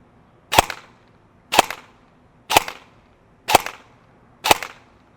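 An EMG Sharps Bros airsoft AEG, with 0.20 g BBs and an 11.1 volt LiPo battery, fires five sharp, loud single shots through a chronograph, evenly spaced about a second apart.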